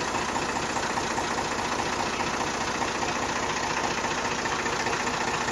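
A 2007 Massey Ferguson 260 tractor runs at a steady idle, its diesel engine giving a loud, continuous, even chugging rumble up close with no voices.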